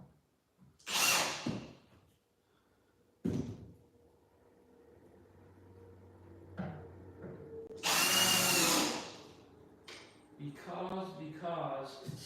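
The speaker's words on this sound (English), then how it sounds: "We're going to go ahead and put these screws in and see how close it is" A power drill drives screws into an interior door in a few loud, short bursts separated by quiet handling and clunks, close by, with brief speech in between.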